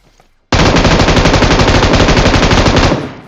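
A sudden, loud burst of rapid automatic gunfire in PUBG Mobile, sustained for a few seconds as a continuous rattling stream before trailing off.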